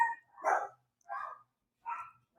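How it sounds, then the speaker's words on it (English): Dogs barking in three separate spaced barks, each short and moderately distant, with silence between them and no voices. "I could hear the dogs real good"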